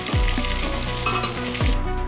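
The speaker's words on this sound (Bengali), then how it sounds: "এই দেখো মাছগুলো আমার কিন্তু ভাজা হয়ে গেছে" Catla fish pieces frying in hot oil in a home kitchen, a steady close sizzle and crackle running throughout with a couple of brief scraping stirs.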